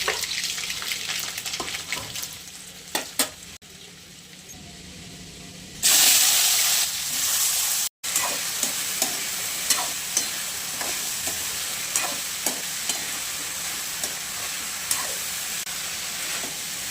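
Mustard seeds and garlic sizzle in hot oil for a dry cowpea pod stir-fry. A close, continuous crackle with frequent small pops swells sharply louder partway through as the garlic goes in, with no talking.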